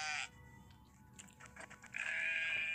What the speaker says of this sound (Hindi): और अब जब ये बकरियाँ यहाँ आ जाएंगी